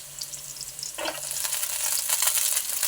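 Onions and green peas fry in a pan with a bright, steady sizzle that swells as stirring starts about a second in, staying close and continuous without speech.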